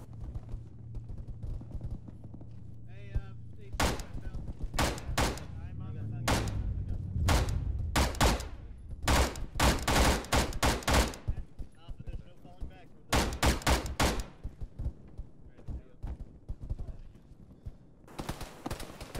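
Gunfire in Arma during a ShackTac squad mission: many loud, sharp shots in irregular single cracks and short bursts, some close, over a low engine rumble early on.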